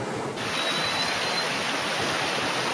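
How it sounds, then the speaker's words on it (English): Rainwater rushes down a street during the rainy season in Sihanoukville, Cambodia, a loud, steady broadband gush like a small waterfall that runs unbroken from start to finish, with no voices. "we've got a little waterfall coming down the street here"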